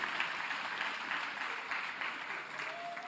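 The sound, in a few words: applause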